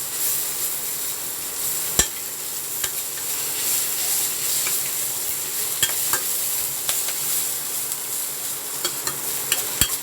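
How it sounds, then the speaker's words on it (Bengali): Tomato is stir-fried with salt and spices in a pan, giving a steady, soft sizzle broken by occasional sharp clicks of a spatula against the pan, close and without talk. "টমেটোটা ভালো করে নরম হয়ে যাওয়া অবধি একটু ভাজা ভাজা করে নেব"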